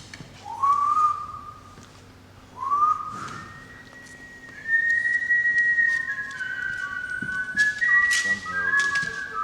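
A person whistles a tune during a live name-that-tune game at a hall, clear melodic phrases with rising slides and sustained notes, close and prominent, with faint room noise beneath.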